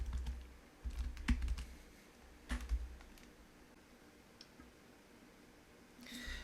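Someone types a username and password on a computer keyboard: a few quick bursts of close key clicks with pauses between them, followed by a single softer tap, over quiet room hum and with no talking.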